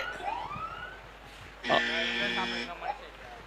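A siren at a local cricket match sounds for about a second to signal a free hit, a steady wailing tone rising out of the crowd noise with commentary around it.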